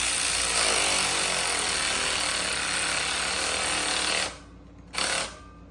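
Power tool, likely an impact wrench, runs steadily while tightening a 16 mm nut during installation of an AWE Touring exhaust on a C8 Corvette, then stops and gives one short final burst; loud and close, with no talk.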